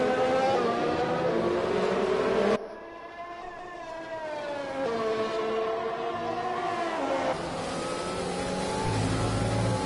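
Sim racing cars from a Celerity eSports Netherlands league race roar along at sustained high revs, engine pitch rising and falling through gear changes, with a sudden drop in loudness partway through as the viewpoint shifts; steady, loud, no voices.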